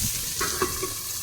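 Cauliflower and peas are stir-fried in a pan with a steady, quiet sizzle and a few soft scraping stirs, with no voices.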